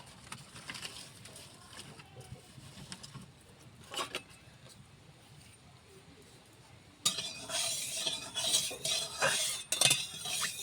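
Eggs dropped into hot mustard oil in a wok burst into a loud, sustained sizzle and crackle about two-thirds of the way in, following quieter scraping and clinks of utensils against the pan.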